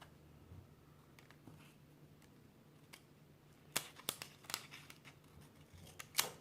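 Scissors snip through paper for a planner, a few faint crisp cuts clustered toward the end, close by in an otherwise quiet room.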